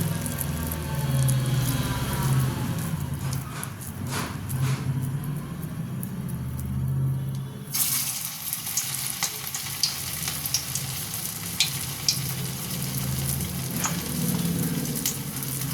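Flattened rice and potato fritters frying in hot oil, a continuous close sizzle and bubbling with intermittent stirring scrapes and clicks, a low hum underneath, no voices.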